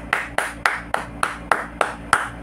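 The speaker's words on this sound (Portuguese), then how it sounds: "bater palmas" Hands clapping: eight crisp, evenly spaced claps at a steady moderate pace, close and fairly loud, with nothing else sounding.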